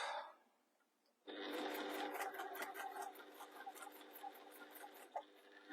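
A domestic sewing machine stitching an applique onto a sleep mask starts abruptly after a quiet moment, then runs in a steady, close, whirring hum with rapid needle ticks until the end.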